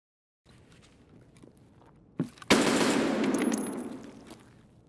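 Two sharp gunshots from an unsuppressed weapon in the video game Escape From Tarkov crack in quick succession, followed by a long, loud echoing rumble that slowly fades; no one speaks.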